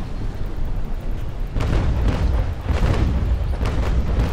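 Ship cannon fire in the naval game Naval Action, a steady run of low, rumbling booms that swells after the first second and keeps rolling in overlapping bursts at close range.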